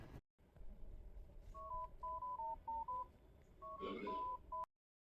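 A telephone number dialed as a quick run of electronic keypad tones in short groups, close and clear, ending in a brief burst of noise with no talking.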